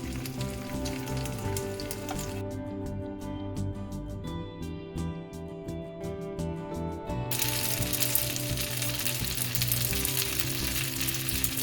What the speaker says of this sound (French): Dans une poêle, on va déposer doucement notre sétan.